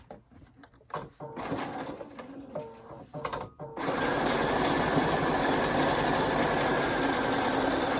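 A sewing machine stitches a welted zipper pocket, starting with a few short bursts and handling noises, then settling into a steady, loud, continuous run of stitching until the end.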